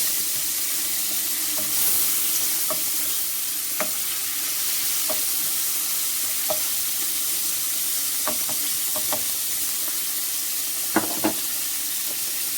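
King prawns fry in a pan with garlic and ginger, a steady close sizzle running throughout, broken by occasional sharp clicks and scrapes of stirring.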